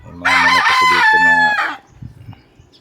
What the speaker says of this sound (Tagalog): May mga manok kasi dito